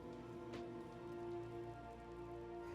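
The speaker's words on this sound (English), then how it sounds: "check out the rainy streets and sinister markets of Cyberpunk" Steady rain falls on city streets in the video game Cyberpunk 2077 Phantom Liberty, a continuous wash of patter under a low droning hum, even and moderately quiet with no voices.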